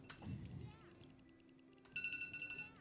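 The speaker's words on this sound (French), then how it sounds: "ça casse les couilles le bruit de l'alarme là" An alarm rings during a live online shopping stream, a steady high electronic tone with a sharper, louder burst near the end, heard faintly over low background noise.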